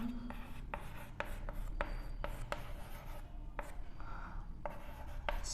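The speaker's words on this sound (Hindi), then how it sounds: "अब इसके शीर्ष लिखते हैं हम" Marker or chalk strokes on a classroom board as triangle vertex letters are written, a series of short scratchy taps and rubs, close and faint.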